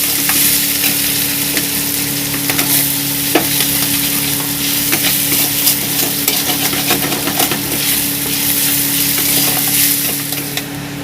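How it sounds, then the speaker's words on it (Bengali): Chopped ginger and green chili stir-fry with onion in hot oil, a loud, continuous sizzle broken by scraping strokes of a spatula against the pan, with no voices. "এখানে আদা কুচি, কাঁচা লঙ্কা কুচিগুলো দিয়ে দেবো। ভালো করে নাড়িয়ে নেব।"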